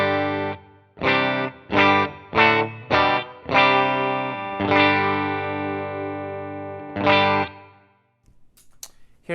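Electric guitar on the bridge pickup through a Helix amp model with plate reverb, played as a run of loud, distorted chords and stabs, then a long sustained chord fading into a final stab and quiet string noise.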